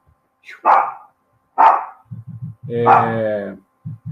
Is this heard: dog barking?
yes